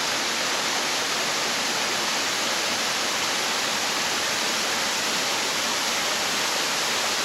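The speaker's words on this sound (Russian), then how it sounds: "вода идет вниз, вниз, вниз" Steady, loud broadband roar of a river pouring down rapids close by, continuous throughout with no breaks.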